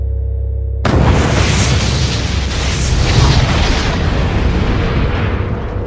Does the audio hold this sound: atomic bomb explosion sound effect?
yes